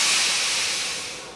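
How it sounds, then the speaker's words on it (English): A steam train engine releases a loud, broad, continuous hiss of steam that fades gradually over about a second before a brief final burst. "Engines ran on a mysterious new element the Victorians had discovered called steam."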